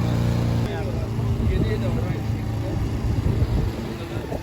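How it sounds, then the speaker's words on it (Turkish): Kuba MX 220 ATV engine idling just after starting, a low steady rumble close by while people talk and laugh over it. "Rolantisini ayarlıyor kendisi. Biraz çalışacak."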